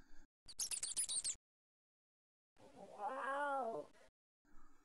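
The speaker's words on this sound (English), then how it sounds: "Oh my gosh, there are kitties here!" Two separate cat meows in the video game Anasazi, a high, short chirpy one and then a longer, drawn-out wail, heard clearly against silence with faint sounds at the edges.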